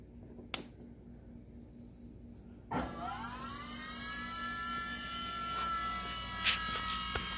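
A G-body car's electric power steering conversion motor, run off a jumper box with the car standing still, kicks in with a sudden steady, fairly loud whine with layered harmonic tones that holds without talk.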